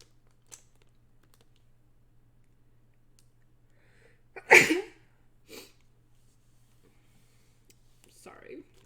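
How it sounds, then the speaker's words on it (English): A single sharp sneeze bursts out midway through an otherwise quiet room, followed by a smaller sniff or exhale and faint keyboard clicks. "Sorry for sneezing."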